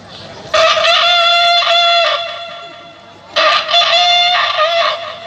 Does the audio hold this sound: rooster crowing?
yes